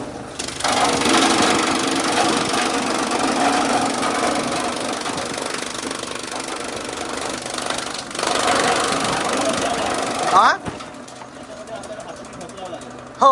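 A chaff cutter machine chopping fodder stalks runs with a loud, steady mechanical clatter and grinding drone for about ten seconds, then cuts off abruptly, leaving quieter background.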